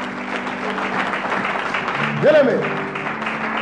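A church congregation applauds during a sermon, a sustained wash of clapping with a voice speaking over it.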